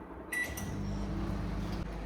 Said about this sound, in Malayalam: ഇത് മൈക്രോവേവ് വെച്ചാൽ കേട്ടോ.